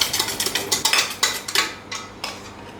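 A whisk beats chocolate beetroot brownie mixture in a bowl, giving a quick run of rhythmic clinking scrapes, close and fairly loud, that slow and thin out toward the end.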